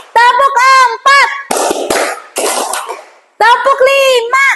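Children in a classroom clap a counted clap pattern, several rapid bursts of claps in short groups between a teacher's spoken counts.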